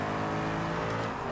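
A 1,000-horsepower car launching down a drag strip in a racing game, a loud close engine roar with layered harmonic drone held steadily for a brief moment.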